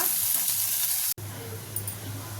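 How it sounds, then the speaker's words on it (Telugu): Sliced onions frying in oil with mustard and cumin seeds for a tamarind-leaf onion curry, a steady close sizzle that cuts out briefly and resumes with a low bubbling hiss and a faint clink. "ఉల్లిపాయలు మంచిగా ఫ్రై అవ్వాలి ఎర్రగా"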